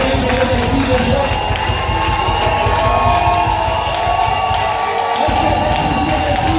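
A worship congregation in church lets out loud cries of joy, a continuous crowd of cheering and shouting voices with scattered clapping, steady and close, with sustained musical tones beneath and a brief dip near the end.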